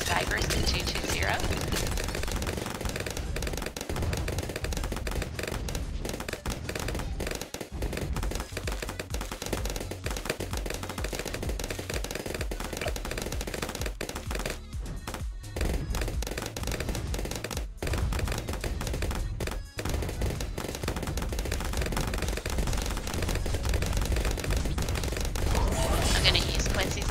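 Sniper monkeys firing in the tower defense game Bloons TD6, heard as dense rapid gunfire-like bursts layered over steady game music and effects, loud and continuous throughout.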